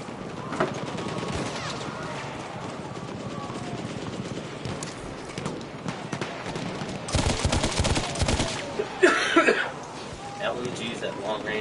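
Bursts of light machine gun fire in a shooter game, rapid strings of shots with a dense volley late on, heard under ongoing conversation.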